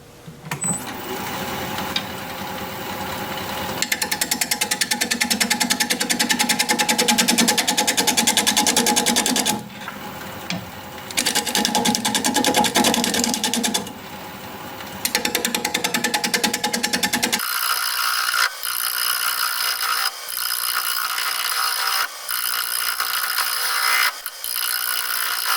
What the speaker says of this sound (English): We're going to be turning at 600 RPM, 5/8 inch bowl gouge